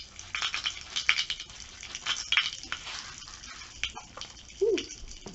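Pop Rocks candy crackling and popping in hot water, a handful of small, close, irregular snaps and fizzes.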